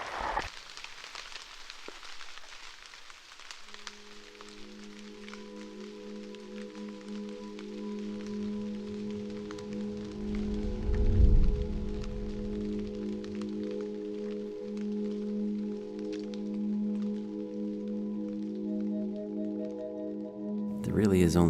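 Steady rain falls with a soft, continuous hiss that swells slightly midway, accompanied by a low, even hum throughout.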